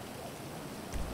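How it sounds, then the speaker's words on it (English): Steady rain falls with a dense, even hiss, and a soft low thump comes near the end, with no voices. "This rain is God's shower."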